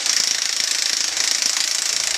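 A power tool tightens a fastener on the suspension of an R56 LCI MINI Cooper S JCW during a JCW sport suspension install, giving a steady, loud, rapid hammering buzz close by with no talk.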